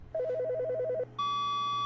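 Inside a video game, a phone rings with a rapid warbling trill of alternating beeps for about a second, then a short pause before a sustained, bright electronic tone sounds alone against a quiet hum.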